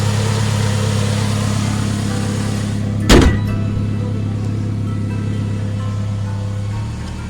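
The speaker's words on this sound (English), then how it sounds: "This is the engine." A 2005 Toyota Camry LE engine idles steadily with a low, even hum, broken once by a brief sharp knock partway through.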